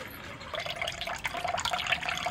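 Flattened rice (chira) being washed in water, with soft splashing and trickling that is fairly quiet and continuous, with no talking.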